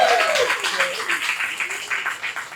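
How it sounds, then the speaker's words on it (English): A comedy club audience claps for the wait staff, a short burst of applause mixed with a speaking voice over it. "do me a favor and clap it up for your wait staff one time"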